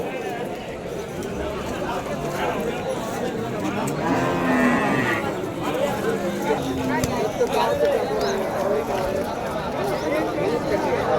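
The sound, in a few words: cattle at a livestock market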